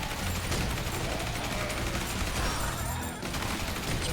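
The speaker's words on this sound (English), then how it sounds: "Our character already has the grenades exploding." Grenades explode in the zombie horde video game Horde Survivor as a dense, rapid barrage of crackling blasts that overlap almost without pause, briefly thinning before picking up again.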